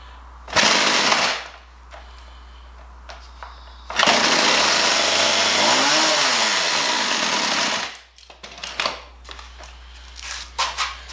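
A Poulan Pro 295 chainsaw engine pops briefly, then catches and runs loudly for several seconds with a revving rise and fall before cutting out, leaving scattered handling clatter.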